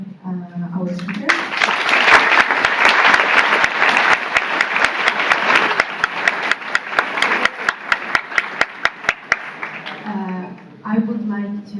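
An audience at a pharmacy students' congress symposium applauds panel speakers, loud sustained clapping that thins into scattered claps before fading out, with a voice speaking just before and after.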